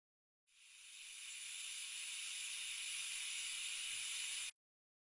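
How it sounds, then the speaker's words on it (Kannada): A pressure cooker venting steam while pulao cooks: a steady, bright hiss that swells in over a second, holds for about four seconds and then stops abruptly, with no talk. "ಕುಕ್ಕರ್ದು ಮುಚ್ಚಳನ ಹಾಕ್ಬಿಟ್ಟು 1-2 ವಿಷಲ್ನ ಕೂಗ್ಸೋಣ"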